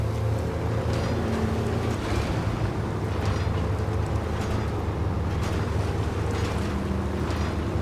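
Cargo boat engine running, a dense continuous low rumble with steady churning noise and wind buffeting, loud and unbroken with no talk.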